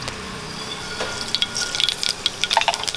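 A quarter teaspoon of mustard seeds in hot oil crackle and pop in a quick, irregular burst of sharp little snaps that grows busier over a few seconds above a low sizzle.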